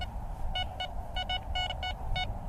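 A metal detector beeps in short repeated bursts over a heavily littered patch of ground, the tones clustered and irregular against a steady background hum.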